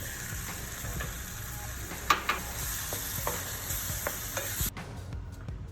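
Vegan Haitian patty filling with green cabbage sizzles steadily as it browns in a pot, close and even, with occasional scraping clicks of a spoon stirring and no talk.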